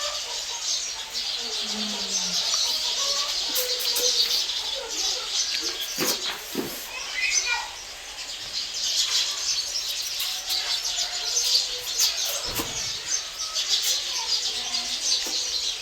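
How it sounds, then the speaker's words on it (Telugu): Many birds chirping and twittering as they return to their nests before rain, a busy continuous chorus at moderate distance with a few sharp knocks and faint voices in the background. "పక్షులన్నీ గూటికి చేరేసాయి."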